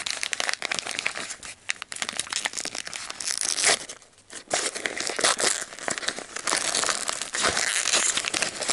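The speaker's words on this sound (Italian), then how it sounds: "iniziamo sempre aprendo il pacchettino, questa volta piccolo piccolo piccolo di Enza" Small advent calendar package being unwrapped, with close, continuous crinkling and tearing of paper wrapping, loud rustles for most of the stretch and a brief quiet gap midway.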